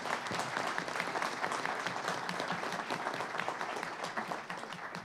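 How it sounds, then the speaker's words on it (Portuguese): An audience at a regional broadcast-engineering seminar claps for the panel speakers, dense and lively applause with crisp individual claps that keeps up at a steady level before tapering slightly at the close. "gostaria de pedir uma salva de palmas para os nossos palestrantes aqui"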